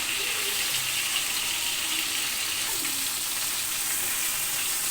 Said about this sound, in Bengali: মাছটা ভাজা কমপ্লিট হয়ে গেছে এখন এই তুলে নিচ্ছি